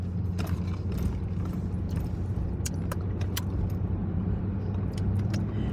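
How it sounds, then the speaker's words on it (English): A car interior during a drive hums with steady low road and engine rumble, punctuated by scattered sharp clicks and rattles like keys jangling, with no voices. "Don't y'all love these car rides?"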